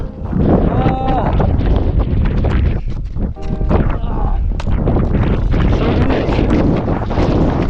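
Strong gusting wind on the 3,751 m summit of the Aiguille de la Grande Sassière buffets the microphone in loud, continuous roars, with excited voices shouting over it.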